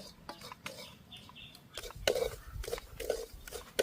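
A coconut sweet being stirred in a pan, with irregular scraping and clinking of a metal spoon against the pan over a faint background murmur.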